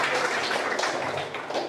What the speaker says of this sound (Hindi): गार्गी पांडे का तालियों की गड़गड़ाहट से स्वागत करिए